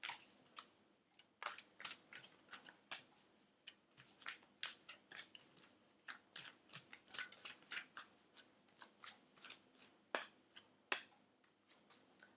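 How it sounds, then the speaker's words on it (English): Tarot cards being shuffled by hand, close up, with a steady run of crisp riffling slaps and soft flicks through a quiet room, no talk. "let's give these a shuffle"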